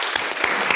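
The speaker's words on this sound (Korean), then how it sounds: "박수로 환영하겠습니다" A brief burst of applause at a church service, many hands clapping together in a quick, dense patter.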